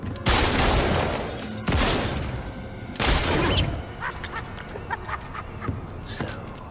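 Rapid bursts of gunfire from the Batman Arkham Origins video game, with several loud volleys in the first few seconds and then lighter, scattered shots and clatter.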